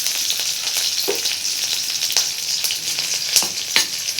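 Green chillies frying in very hot oil with garlic and ginger, a steady close sizzle with occasional louder pops and crackles and no talking.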